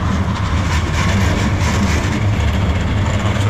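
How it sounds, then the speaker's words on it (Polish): A tram rumbles steadily off a bridge over the Vistula in Kraków, with a continuous low mechanical drone and rolling wheel noise holding at a fairly loud level throughout. "Tramwaj zjechał z mostu."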